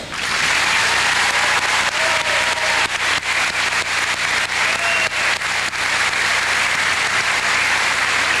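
A large audience at a graduation ceremony applauds steadily throughout, a dense wash of clapping that stays strong from start to finish.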